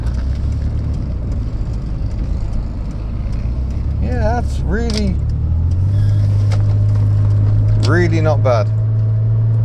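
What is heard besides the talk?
Rover MGF V6 engine car driving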